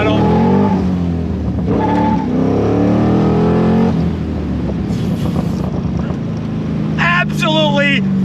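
A Chevrolet C2 Corvette restomod engine pulls hard on throttle, loud and close, its note climbing through rising revs with gear changes and a brief lift, and a voice speaks over it near the end.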